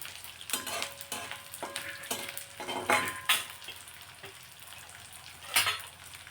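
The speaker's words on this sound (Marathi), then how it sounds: "थोडा थोडा असा डिंक टाकून तळून घेणार आहोत." Edible gum fries in hot ghee while being stirred, soft bubbling sizzle punctuated by repeated sharp clinks and scrapes of a metal spoon against the pan, close and fairly quiet.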